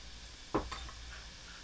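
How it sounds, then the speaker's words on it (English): Onions tossed into a hot Instant Pot while cooking oxtails land with one soft thud, followed by a faint, short sizzle in an otherwise quiet kitchen. "You're going to take your onions, throw your onions in."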